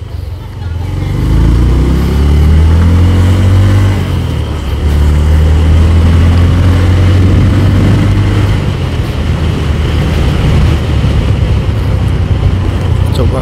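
A 2013 Honda Verza motorcycle engine revs while riding, a loud, steady droning hum whose pitch climbs with the throttle, heavy wind and road noise over it, and a rider talking intermittently.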